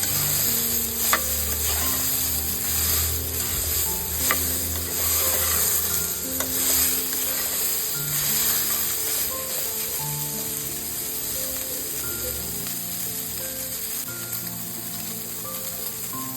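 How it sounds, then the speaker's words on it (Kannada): Turmeric frying in hot oil in a home kitchen: a steady loud sizzle with occasional spoon scrapes runs throughout, a high whine and background tones sitting behind it, no speech. "ಇದಕ್ಕೆ ಒಂದು ಅರ್ಧ ಟೇಬಲ್ ಸ್ಪೂನ್ ಆಗುವಷ್ಟು ಅರಿಶಿನ ಹಾಕಿ ಚೆನ್ನಾಗಿ ಫ್ರೈ ಮಾಡ್ಕೊಳ್ಳಿ ಎಣ್ಣೆದಲ್ಲೇ"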